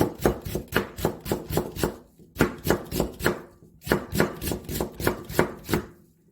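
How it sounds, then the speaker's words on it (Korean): A knife cuts radish into thin julienne strips on a cutting board, producing rapid, rhythmic close-up chops in bursts of several strokes separated by short pauses, with no voices. "그럼 무를 한번 채 썰어 보겠습니다"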